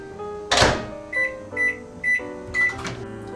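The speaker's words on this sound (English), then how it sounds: "2 minutes in the microwave." A microwave oven's door thumps shut, then its button beeps sound in a short series before the low hum of the oven running, all close by and with no talking.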